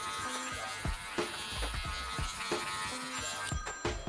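Electric hair clippers with a half guard buzz during a bald fade, a low close hum broken by soft taps and clicks as the lever opens and closes.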